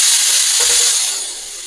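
A pressure cooker holding a tamarind curry of cowpeas and elephant foot yam hisses out steam after its whistle, a loud steady jet that tapers off slightly toward the end, with no talking.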